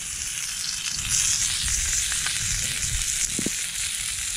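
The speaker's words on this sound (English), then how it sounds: "when you're cooking in a tent, you do need to open the flap" Food sizzles and crackles steadily in oil on a camping stove inside a closed tent on a November beach, with a constant close frying hiss and no talking.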